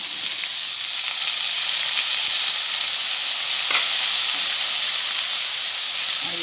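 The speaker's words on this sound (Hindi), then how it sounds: "और इसे भी कोलिम के साथ थोड़ी देर तेल में भूनूंगी।" Chopped brinjal fries in hot oil with kolim, giving a loud, dense, continuous close sizzle with a faint clink partway through and no talking.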